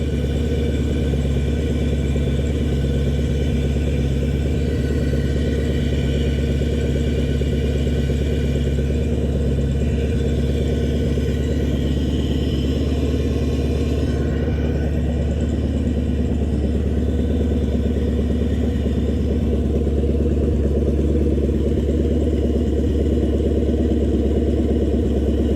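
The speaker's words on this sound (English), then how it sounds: "And our engine is running." A jet boat engine idles steadily while warming up, a loud, constant low rumble with an even mechanical hum that holds unchanged throughout.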